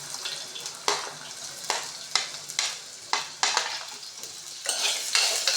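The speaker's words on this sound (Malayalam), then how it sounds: "നമ്മൾ ഏത്തയ്ക്ക അരിഞ്ഞത് ഇട്ട് കൊടുക്കുന്നു" Chopped plantain and dried red chilli go into oil with popped mustard seeds, a sizzling fry broken by rhythmic stirring scrapes and spoon knocks roughly every second, close and moderately loud.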